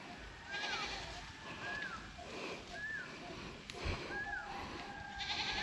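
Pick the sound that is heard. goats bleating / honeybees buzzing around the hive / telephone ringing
goats bleating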